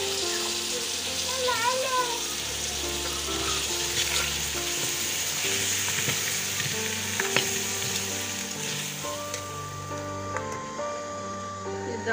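Beef hitting a hot pan for chana dal gosht, a loud steady sizzle and frying hiss close up with stirring scrapes, continuing throughout with little break.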